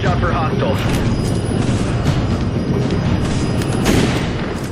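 Resident Evil 5 gameplay with loud booming gunfire and explosions that are dense and continuous, while someone talks over the top throughout.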